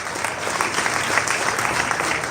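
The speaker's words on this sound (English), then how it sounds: "Give them a round of applause." Sustained audience applause fills a hall at an accountants' induction ceremony in Owerri, Imo, a steady dense clapping that stays loud and even throughout with no voices over it.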